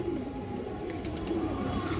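A silver khaki high-flyer pigeon cooing softly, low murmuring calls repeating through a steady background noise, close by with no voices.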